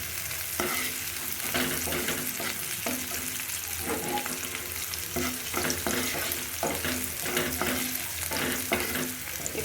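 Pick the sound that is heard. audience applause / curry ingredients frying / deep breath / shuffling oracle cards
curry ingredients frying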